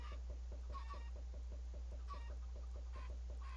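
Chickens cluck in a Minecraft game, a quick regular run of short clucks over a steady low hum, with louder bursts of squawking now and then and no talking.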